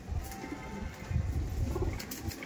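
A female Giribaj pigeon, a Kaldom Kalasabuj type, coos in a low, soft, rolling series of repeated calls close by, with no talking over it.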